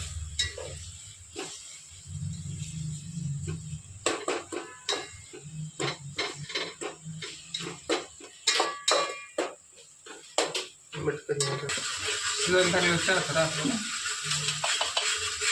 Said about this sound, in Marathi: आता आपण एक वाटी हे पेस्ट टाकणार आहे, सगळी टाकायची, मस्त मिक्स करून घ्यायचं